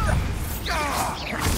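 Bombarda explosive spell cast in the video game Hogwarts Legacy: a rising whooshing burst swells into a loud crashing blast, sitting in a dense bed of game effects and rumble.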